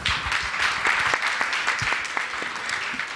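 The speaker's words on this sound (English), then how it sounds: "let's welcome her with a big round of applause" A round of applause from the audience at the World Emerging Security Forum in Korea greets the incoming chairperson, steady dense clapping from a large hall that holds at an even level throughout.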